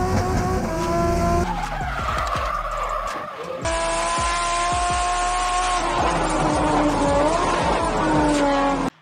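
A drifting car's engine roars and revs up and down while its tires squeal loudly in long, wavering skids, with several short engine pulses, all close and continuous.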